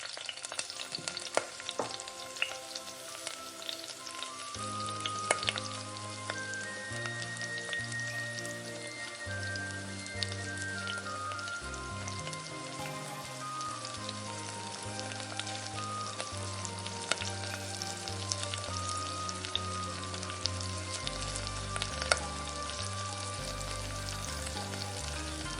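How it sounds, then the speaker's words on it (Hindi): Chicken frying in hot oil in a home kitchen for Indian-Chinese chicken Manchurian, a steady crackling sizzle with bright spitting pops and scattered stirring clatter, running continuously with background music and no talk. "अब ऑयल को गरम करेंगे और चिकन को फ्राई कर लेंगे।"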